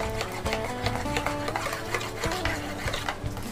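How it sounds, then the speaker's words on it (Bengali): Hand-mixing spice paste and oil into hilsa fish pieces in a bowl, a steady close squelching and rubbing with light clinks of the dish, continuous and alone. "এবার আমি একটু ভালো করে মাখিয়ে নেব এটা।"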